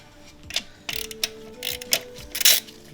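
Ratchet wrench clicking as a bolt is loosened during clutch work on a Nissan 370Z, quick rhythmic ratcheting strokes in several bursts, close and fairly loud with a faint hum underneath.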